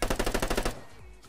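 A burst of rapid automatic gunfire in Call of Duty, about nine quick evenly spaced shots, loud and close, then stops abruptly and leaves a fading rumble.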